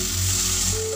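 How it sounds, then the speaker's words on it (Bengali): Small chuno fish curry with chilli and a pinch of sugar being sautéed in a pan, a steady close sizzle with low hum underneath, continuous for about a second. "তারপর এটাকে ভালোভাবে কষাব।"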